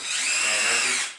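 A power drill spins up to crank the platform of a raft floor, one continuous high whine that rises in and fades out over about a second.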